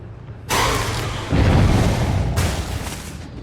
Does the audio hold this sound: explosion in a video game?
yes